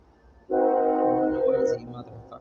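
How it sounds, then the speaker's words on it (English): A passing train sounds a single loud, sustained horn blast of just over a second, followed by a fainter low rumble as the rail traffic continues. "I understand how important trains and big rigs are to both the economy and the supply chain, but damn, they are noisy."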